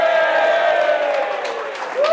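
Audience at a tech meetup cheering and applauding in a short, loud burst of crowd noise with scattered whoops, fading slightly toward the end.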